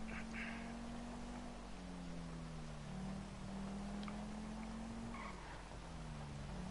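Car tyres rolling over a concrete road in the GTA V video game give a steady, low drone that shifts slightly in pitch, with faint engine and road noise behind it and no talk.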